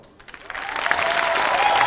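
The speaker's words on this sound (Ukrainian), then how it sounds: "з вас оплески, з мене монолог." Applause from a comedy show audience swells quickly from near silence into loud, full clapping with some cheering that keeps building to the end.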